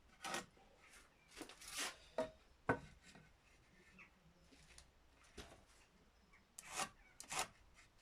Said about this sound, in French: Donc je découpe les pieds qui me manquent